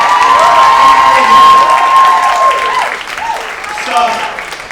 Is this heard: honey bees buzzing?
no